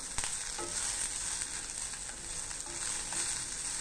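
Constant dry sizzling from spices roasting in a hot pan, close and steady, with a few light clicks of stirring and no voices.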